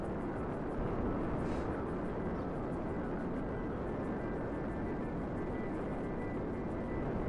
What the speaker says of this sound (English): that was a successful landing